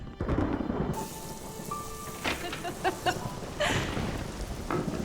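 Steady heavy rain pours down while thunder rumbles and cracks nearby, with a few faint tonal sounds over the downpour.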